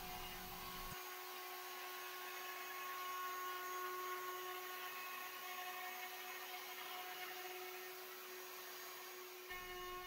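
Router cutting a large wooden dowel at a slow, steady pace, a continuous high motor whine with rasping cutting noise held evenly throughout, with no talking.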